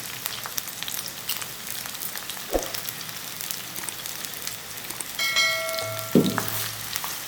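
Onions frying in a pan until golden make a soft continuous sizzle, broken by a couple of sharp clinks of a utensil and a brief ringing tone near the end.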